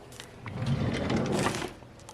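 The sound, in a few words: junk drawer being opened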